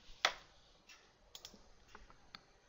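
Number keys tapped on a computer keyboard, a quiet, sparse run of separate clicks with one sharper first press, close up in a still room.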